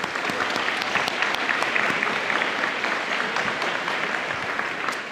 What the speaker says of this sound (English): So maybe give them a round of applause.